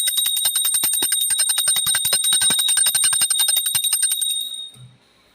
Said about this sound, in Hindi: यहाँ पे हम घंटी बजा रहे हैं।